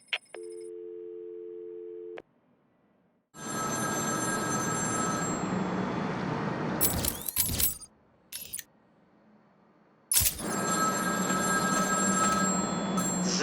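In Batman: Arkham City, a phone signal plays as a steady two-tone electronic buzz, then stops, followed by a long noisy hum with sharp clicks and bursts, a pause, and more hum.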